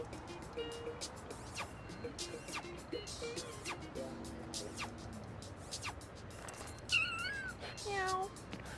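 A man imitating a cat with a few drawn-out meows, the mimicked cries standing out late over quiet video game background sounds.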